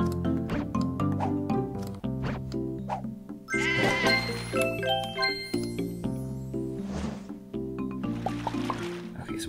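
Cartoonish sheep bleats in the puzzle video game Divide By Sheep, repeated short bleating calls mixed with playful game music, chimes and watery effects, loud and busy throughout.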